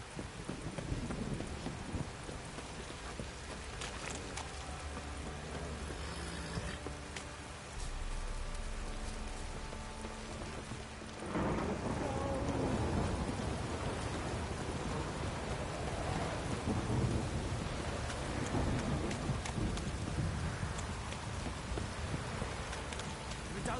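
Steady rain falls throughout a fantasy game scene from The Witcher, a dense wash that grows heavier partway through, with faint hoof-like clopping early on; no clear thunder stands out.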